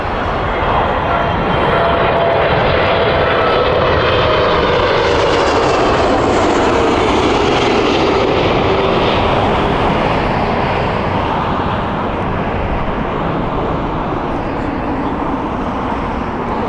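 A Saudi Boeing 777 in a special E Prix livery, eight years old, passing at Heathrow Airport with a loud, steady jet engine roar that swells and holds throughout.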